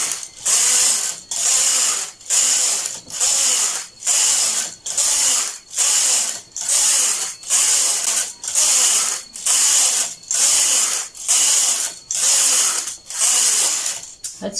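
A knitting machine carriage sweeps back and forth across rows of a skirt, each pass a loud ratcheting clatter lasting about a second, separated by brief pauses in a steady, even rhythm.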